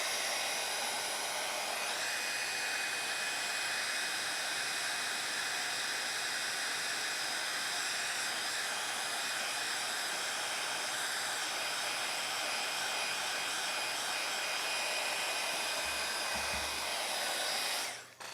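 A hair dryer drying a layer on a handmade craft card, a loud steady whirring blow that runs continuously for the whole stretch and then cuts off at the end, with no talk over it.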